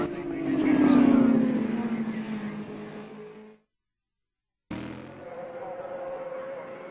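Racing motorcycles at the 2005 North West 200 road race scream past close by, one loud engine rising then fading, a brief gap, then more bikes roaring on under crowd noise.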